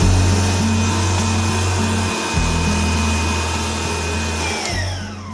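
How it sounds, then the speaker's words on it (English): Electric stand mixer whisking egg yolks and caramel for a mousse, a steady loud motor whir with a cyclic pulsing hum, running alone without talk. "Turn the machine back on and we're going to let it whisk for about 10 minutes."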